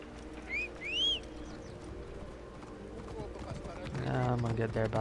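Horse hooves clip-clop in a steady rhythm in a video game set in an ancient Egyptian city, under continuous background sound, with a few bird-like chirps and a louder burst near the end.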